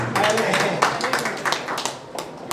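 Audience clapping at a live Hindi comedy and poetry stage show, a dense, steady patter of many hands that fades slightly toward the end.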